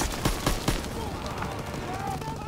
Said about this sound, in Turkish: Oo, her taraftan sıkıyorlar